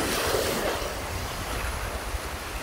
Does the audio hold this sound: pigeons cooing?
no